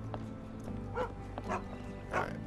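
A dog in the Sherlock Holmes The Awakened video game gives a few short, soft woofs and whimpers over a low steady background hum, fairly close.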